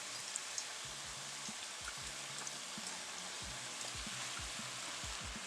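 Jasmine long-grain rice sautéing in a pot, a steady soft sizzle with a low periodic hum running underneath, no voices.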